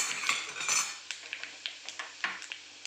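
Sesame seeds and chili flakes stirred in a pan with a utensil, giving a steady scraping clatter at first, then a series of separate light metallic taps and scrapes, close and fairly quiet with no talk.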